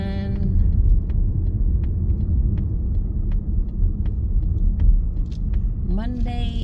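Steady low road rumble from a car's engine and tires on a Monday afternoon drive to work in Australia, continuous and close, with a brief voice near the end.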